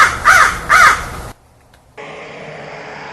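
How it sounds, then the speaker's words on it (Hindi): A crow caws at night, two harsh, clear calls in quick succession, then a short near-silence before a steady low hiss takes over. "कानों में पड़ी दूर से आती हुई कौवे की आवाज।"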